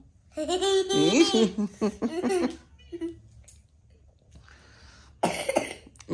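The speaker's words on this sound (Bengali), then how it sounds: "কাশি হয়েছে না?" Several short coughs from a nearby small child, mixed with giggly vocal sounds, then a pause and a final harsh burst.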